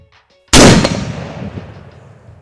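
German TankGewehr anti-tank rifle firing a single very loud, sharp shot nearby, followed by a long, rumbling echo that slowly fades.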